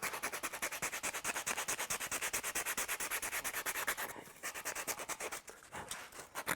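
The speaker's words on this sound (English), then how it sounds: "So now I'm going to move to some sandpaper." Sandpaper rubs steadily over a wooden bow tip overlay on a primitive longbow, a fast, even rasping stroke repeated close by for several seconds, with a brief pause and uneven strokes near the end.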